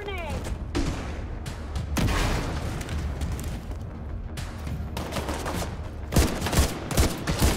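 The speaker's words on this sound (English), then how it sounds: "Launching grenade." Grenade launcher fire and blasts in The Division 2 video game, with a dense run of booming gunfire and explosions across the stretch and a heavier cluster of bursts near the end, under steady game noise.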